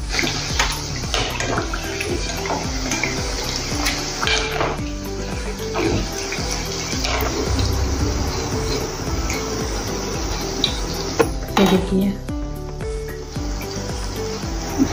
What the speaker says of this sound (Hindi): जो बची है अपनी पापड़ी, उसको भी हम ऐसे ही तल लेंगे अभी